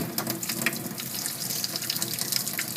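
Running water from a tap rinses a kitten during a bath, a steady close-up splashing stream with no break.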